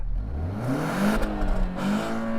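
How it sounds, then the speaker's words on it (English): An older Audi car engine revving hard without a soft limiter, its pitch sweeping up and down in repeated surges, loud and close with no talk. "go on, start the engine, rev it up"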